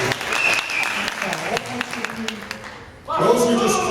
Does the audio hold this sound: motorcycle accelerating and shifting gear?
no